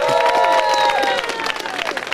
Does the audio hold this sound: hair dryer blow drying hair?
no